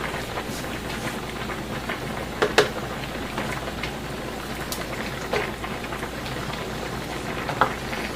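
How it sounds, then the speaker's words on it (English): Olives and strips of roasted red pepper sizzle in a hot skillet for pasta puttanesca, a steady close crackling hiss with a few sharper pops scattered through. "I'll put this in the skillet and we'll get that all hot"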